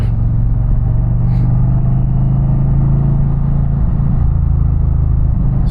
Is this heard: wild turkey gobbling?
no